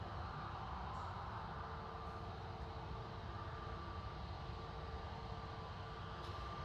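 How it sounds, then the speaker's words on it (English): An EasyJet Airbus A320neo at Manchester Airport produces a steady, distant jet engine rumble and whine, continuous and moderately faint, with no voices over it. "EasyJet 2283 to Rovaniemi, GUGA EA A320 Neo."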